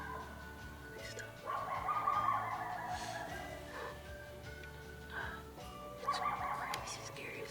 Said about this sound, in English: know if you can hear the coyotes in the background